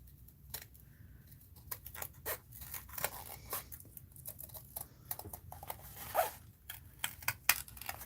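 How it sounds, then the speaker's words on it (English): New titanium scissors snip through paper at an art-journaling desk: a close run of crisp, irregular cuts, some quick and some spaced, with no talking. "And let's use my new titanium scissors from Deborah Brown."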